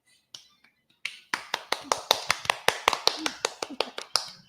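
Clapping at the close of a show: a few hands in a steady, sparse rhythm of sharp, distinct claps that starts hesitantly and then settles into an even beat, fairly close and with no talking.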